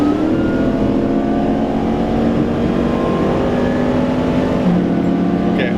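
A supercharged 2008 Pontiac G8 with a Magnuson blower pulls hard under acceleration, loud steady engine drone with rising whine heard from inside the cabin, continuous with no talk.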